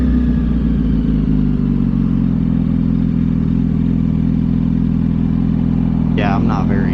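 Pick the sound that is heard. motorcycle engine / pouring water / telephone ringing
motorcycle engine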